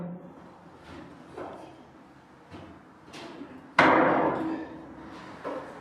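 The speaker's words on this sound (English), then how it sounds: "Just got a little claw hammer here to bring it up as I need to" Several sharp metallic taps from a small claw hammer, spaced irregularly, with one louder strike near the end; close by, no talking.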